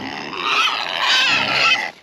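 Homestead pigs let out loud, strained squeals mixed with rough grunting in a single close burst lasting about two seconds before cutting off.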